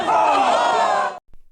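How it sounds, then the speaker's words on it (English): A recorded crowd roars loudly and steadily for about a second before cutting off abruptly, followed by a faint brief sound. "We'll try to pull some audio of the whole crowd"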